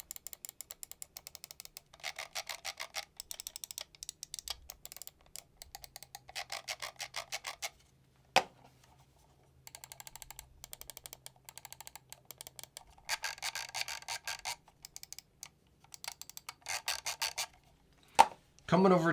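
Old Zowie FK gaming mouse buttons clicking in a sound test, rapid bursts of sharp close clicks in runs separated by short pauses, with a few louder isolated snaps.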